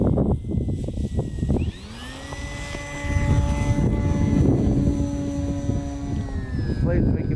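A Carbon Z Cessna RC airplane flies outdoors in snow and cold wind, its electric motor a droning whine that shifts in pitch as it passes, over wind gusts and intermittent talk from people nearby.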